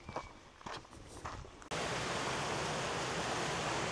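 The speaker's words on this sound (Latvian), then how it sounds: "Upe turpina savu tecējumu." A river flows steadily as broadband rushing water on a mountain trail between Siwa Polana and Chochołowska Polana, starting abruptly partway through and continuing loud and constant, preceded by softer shuffling sounds.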